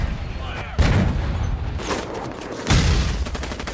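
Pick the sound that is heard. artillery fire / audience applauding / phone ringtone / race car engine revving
artillery fire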